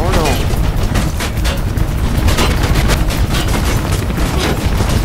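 Rapid gunfire and booming blasts from the Mirror's Edge video game ring out in an alley, dense and loud throughout, with a voice talking over the shooting.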